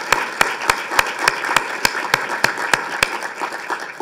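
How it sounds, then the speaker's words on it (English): Sparse, uneven clapping from a conference audience at a nursing innovation summit keynote, individual claps standing out in a loose rhythm over a few seconds with no one speaking. "Can we all clap for Nancy hand in hand?"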